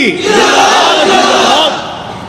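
A large crowd roars a loud unified chant in reply to a takbir call at a religious sermon gathering, the massed voices swelling and holding strong for about two seconds before tapering off.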